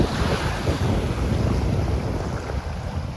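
Sea waves and strong wind surround a fishing boat at sea, a loud, continuous roar with heavy wind buffeting the microphone and no voices.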